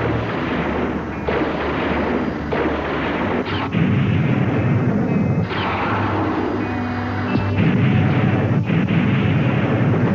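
Artillery batteries and rockets fire in a battle scene from the film Mighty Jack, a loud, unbroken barrage of heavy booms and rumbling blasts that swell and overlap across the whole stretch, with no talking.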